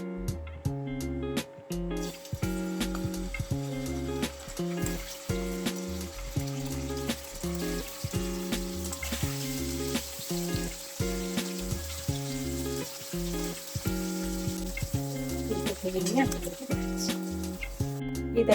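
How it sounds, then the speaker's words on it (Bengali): Paneer pieces fry gently in hot oil in a pan, a soft steady sizzle running under loud rhythmic background music for the whole stretch. "আমি এখানে এবার পনিরগুলোকে দিয়ে হালকা হালকা করে ভেজে নেব।"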